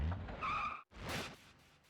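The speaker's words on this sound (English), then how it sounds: "You hear an engine sound from somewhere." A taxi engine in the video game SMT Devil Summoner 2 roars past with a whooshing, skidding rush, two loud swells split by a sudden brief cut, with no talking.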